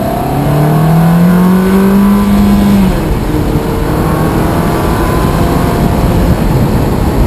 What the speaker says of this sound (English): You notice it more when like it's really revving up